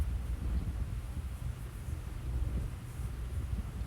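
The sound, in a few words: wind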